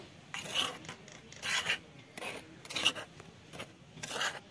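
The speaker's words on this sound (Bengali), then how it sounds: "ভালো করে মিশিয়ে নিব" A spoon stirs homemade ENO powder ingredients, including salt, in a bowl, making about five rhythmic, raspy scraping strokes, close and fairly quiet.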